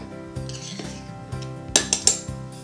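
An offset spatula scrapes excess flour off a measuring cup while a chocolate cake batter is being prepared. Light metallic rubbing and scraping leads to a few sharp clinks near the end, close and fairly quiet.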